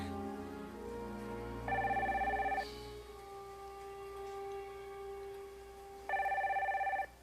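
A telephone rings in two bursts of trilling bell, each about a second long, set several seconds apart over a low steady hum, fairly quiet and with no voices.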